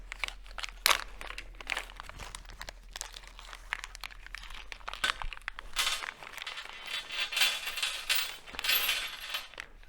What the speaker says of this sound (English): So first you got to open up the bag.